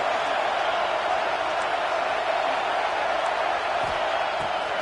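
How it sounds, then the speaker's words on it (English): A packed stadium crowd roars steadily at a college football game between Oregon and Auburn, a dense, continuous wash of cheering with no breaks, loud and enveloping. "Listen to this crowd just shaking the girders of this place"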